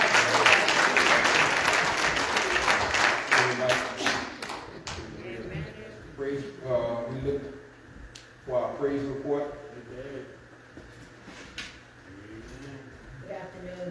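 A church congregation claps in praise, dense applause filling the first few seconds before fading into scattered claps, with someone speaking over the tail end.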